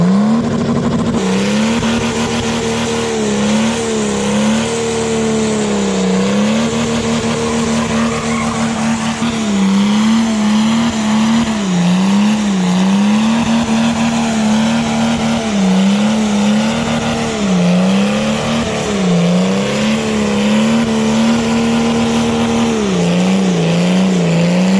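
A video game car engine revs hard and holds high, wavering pitch as the car drives, with tire squeals and skidding layered in, loud and continuous throughout.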